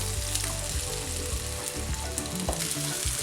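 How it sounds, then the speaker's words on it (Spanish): Tomatoes, onion and red chile fry in olive oil, giving a steady close sizzle and crackle with occasional stirring scrapes throughout, and no talking. "vamos a dorar un poco nuestros tomates junto con la cebolla y el chile rojo"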